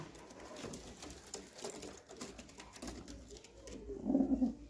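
Pet pigeons coo close by in a murmuring flock, with steady background rustle and a louder burst of cooing near the end.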